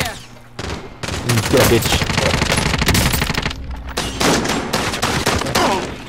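Heavy automatic gunfire erupts in Call of Duty Warzone on Rebirth Island, loud dense bursts and rattling fusillades with brief gaps, while players talk over the shooting.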